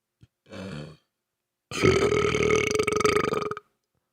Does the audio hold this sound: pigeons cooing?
no